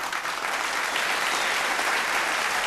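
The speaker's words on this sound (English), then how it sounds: "Please join me in applauding them" A studio audience at a televised vocal competition claps steadily for the show's sponsors, a dense, even wash of applause holding at the same level throughout with no voices on top.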